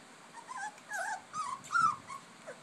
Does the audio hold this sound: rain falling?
no